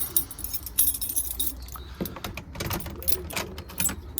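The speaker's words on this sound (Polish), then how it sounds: "muszę klucze wygrzebać z tych kieszeni" Keys jangle and clink in uneven bursts as they are dug out of pockets at a pigeon loft, close and moderately loud with rustling of clothing.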